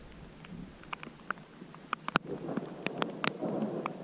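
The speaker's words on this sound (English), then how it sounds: "It is raining and there are just thunder clouds and it's putting on a show out here." Rain patters steadily while sharp cracks and rumbles of thunder break out several times, close and loud, in a stormy outdoor scene at Virginia Lakes, California.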